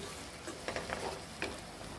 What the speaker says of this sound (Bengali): চুলা লো ফ্লেমে রেখে পেঁয়াজ রসুনের কাঁচা গন্ধটা চলে না যাওয়া পর্যন্ত ফ্রাই করে নিচ্ছি